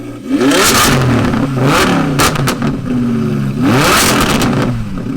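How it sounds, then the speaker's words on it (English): A roaring Audi R8 V10 engine revs hard several times close by, its pitch sweeping up and falling back in repeated loud surges with no voices. "Every time that V10 goes up, it's just ridiculous."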